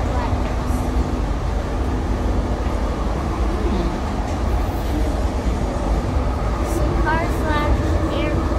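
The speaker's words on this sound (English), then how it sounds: "Getting on the air train." Riding the AirTrain railway at JFK airport, a steady loud rumble of rolling rail carriage with wheel squeals and faint chimes near the end, under occasional voices.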